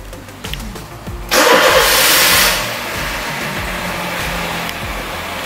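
A 2008 Honda Jazz GE8 engine starts by remote through a universal PKE start-stop system: a sudden loud cranking surge, then a steady close idle rumble that settles slightly lower and runs on alone.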